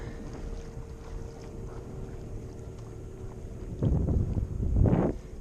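Speedboats pass on open water during stand-up paddleboard fishing, a steady engine drone and wind noise building into two louder surging washes of wake and hull noise toward the end.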